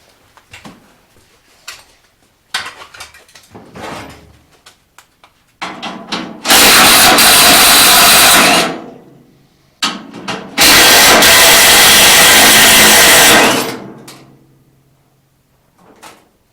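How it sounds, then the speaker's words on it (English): A metal pedal box from a Chevrolet S10 being fitted onto mounting brackets at the firewall of a hotrod truck, scattered knocks and clunks, then two long loud scraping rubs, close and alone. "I can slip the pedal box into there, onto the mounting brackets where it did mount originally"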